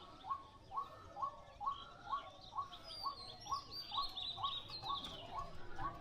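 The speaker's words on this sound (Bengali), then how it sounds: "পাখির আওয়াজ শোনা যাইতেছে না?" Birds call repeatedly near a village rooftop: a regular series of about a dozen short, clear, rising-falling notes, evenly spaced and moderately near, with a fainter higher warble partway through and no talking.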